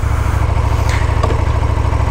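Close, steady idle of a KTM Super Duke 1290 twin-cylinder 1300 cc motorcycle, a low throbbing beat running evenly throughout, with a couple of faint brief higher noises in the background and no talking.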